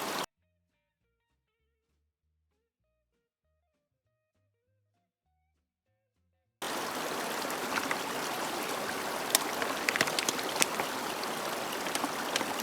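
Clean water squeezed from a backpacking filter bottle into a second bottle on a trail, a steady trickling stream running for several seconds after a stretch of near silence.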